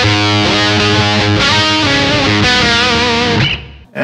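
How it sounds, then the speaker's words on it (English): Distorted electric guitar through a Tech 21 PL1 Fly Rig pedal with boost engaged; loud, thick chugging chords and sustained notes, alone with no talking, cutting off abruptly at the end. "it's the boost sounds like this"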